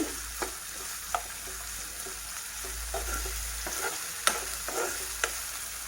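Grated coconut dry-roasting in a pan for a white vegetable kurma, with a soft steady sizzle and a few sharp scrapes of the spoon as it is stirred, quiet and close.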